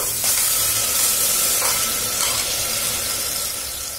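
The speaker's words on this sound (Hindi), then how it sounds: "अब इसे मैं फ्राई करती हूँ अच्छे से जब तक ये रोस्ट हो रहा है प्याज" Sliced onions fry in a pan for mutton dabba gosht, giving a steady, close sizzle that holds for the whole stretch with a few faint scrape-like ticks from stirring and no voices.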